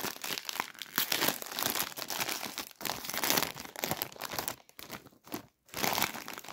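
A snack bag of Lulu Puffs chili lime crisps being torn open, loud close crinkling and rustling plastic that runs almost continuously, with brief pauses near the end.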